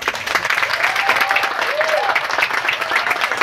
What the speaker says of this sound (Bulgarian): Тогава, аплодисменти!